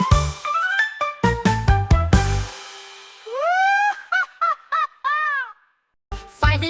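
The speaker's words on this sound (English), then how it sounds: "And all five ducks went quack," Animated quacks from cartoon ducks in a children's nursery rhyme, several short nasal honks in a bouncy rhythm between sung phrases, loud and close.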